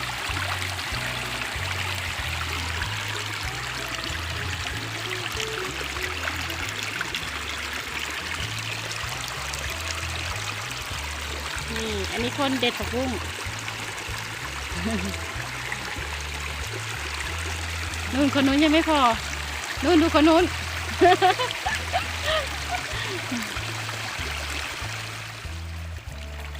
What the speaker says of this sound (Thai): เนี่ยดูเสียงน้ำไหลค่ะเพื่อน